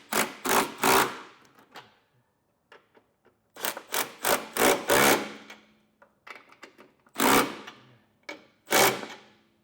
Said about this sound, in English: We're going to come back through and snug everything down.